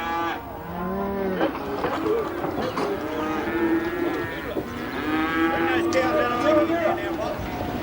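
Many cattle moo repeatedly in overlapping low calls, some near and some farther off, amid a busy livestock yard at a stock sale.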